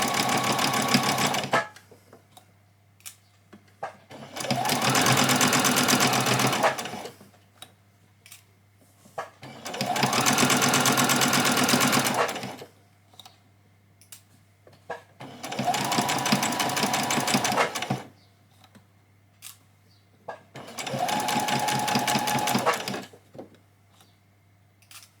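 A sewing machine stitches a child's dress in five separate runs of rapid mechanical whirring, each about two seconds long, with quiet pauses between them.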